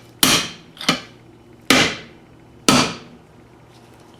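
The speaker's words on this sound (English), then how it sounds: "Tap that in the rest of the way. Use my bigger hammer for this." A bigger hammer taps a bearing onto the inner race of a Thunderbolt A2-4M siren blower: four sharp metallic strikes, close and loud, each ringing briefly, spaced unevenly with no talk.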